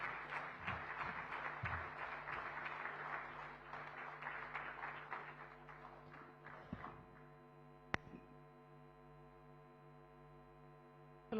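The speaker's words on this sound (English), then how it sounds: "please let's welcome with a resounding round of applause, Honorable Chief Minister of Maharashtra, Shri Devendra Fadnavis ji" An audience at a national convention claps to welcome the Chief Minister of Maharashtra, a dense, even patter of many hands that carries for several seconds, then fades out and leaves a quiet hum broken by one sharp knock.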